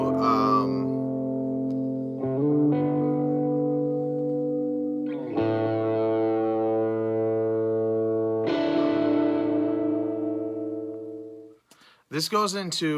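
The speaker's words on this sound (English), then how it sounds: "the next track is an instrumental intro that's all just guitar" Processed electric guitar with chorus and distortion plays sustained, ringing chords that change a few times, ending with a brief burst of noise.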